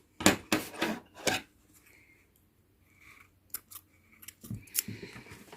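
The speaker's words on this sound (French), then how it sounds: "Et je vais le couper." Scissors snip through crochet yarn to finish a cat-ear headband, giving several sharp, close cuts in a quick burst, then quieter small handling sounds and a few more snips toward the end.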